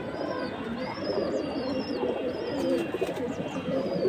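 A flock of Moyna jhak pigeons, including all-black birds, coos softly amid a dense, steady bed of bird noise, with thin higher calls drifting over it.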